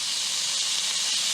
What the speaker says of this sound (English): and I'll add it to the hot oil